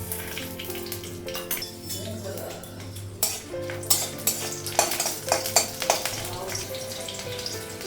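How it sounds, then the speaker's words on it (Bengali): Green and dried chillies fry in oil in a wok, a close sizzle under repeated metallic scraping and clinks of a spoon against the pan, with a background hum. "কড়াই বসিয়ে দিয়েছি কড়াইয়ের মধ্যে কাঁচা লঙ্কা শুকনো লঙ্কাটা লাগানো"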